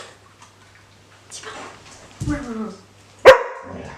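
A single dog bark rings out near the end, preceded by a short low yelp and faint speech-like murmurs in an otherwise quiet room.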